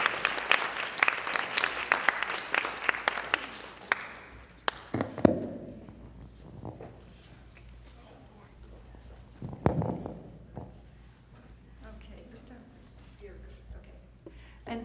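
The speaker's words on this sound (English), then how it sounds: "let's have another round of applause." An audience at a civil rights event applauds the speakers in a brisk burst lasting a few seconds, then dies into scattered claps, shuffling, and occasional soft movement in a quiet room.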